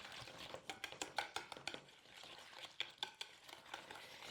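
A liquid mixture being stirred into flour for brownie batter, with a utensil scraping and tapping against the bowl in quick irregular strokes, close and fairly quiet, and no talking.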